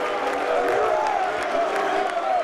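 Crowd at a professional pool tournament cheering and applauding after a tied frame, a steady broad wash of clapping and cheers mixed with voices throughout.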